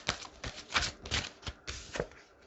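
Tarot cards are handled and laid out in a quick series of soft, close slaps and shuffling flicks, about eight crisp taps in a couple of seconds.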